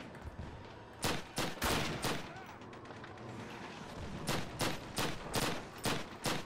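Bursts of gunfire in Call of Duty, rapid clusters of sharp shots in two volleys separated by a quieter stretch of background battle noise, loud and close.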